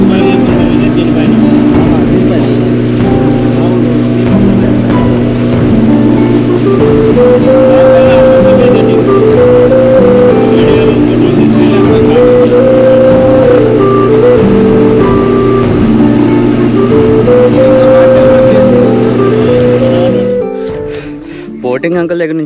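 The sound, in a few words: motorboat ride on the water at Gandikota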